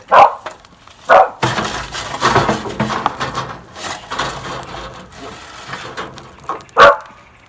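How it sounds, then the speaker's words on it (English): A dog barks outdoors beside a wood fire burning Florida oak in a smoker: a few sharp, loud barks at the start, a quieter stretch of crackling and rustling, then another bark near the end. "the flames are popping and the dog's barking"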